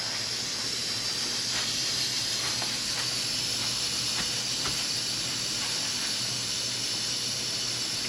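A pressure cooker cooking Cuban-style oxtail hisses steam continuously at a steady level, with faint intermittent clicks and rattles underneath.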